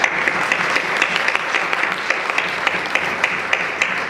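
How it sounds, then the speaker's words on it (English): Audience applause at a vigil, dense steady clapping from many hands for several seconds with little else. "I want to give you guys a round of applause"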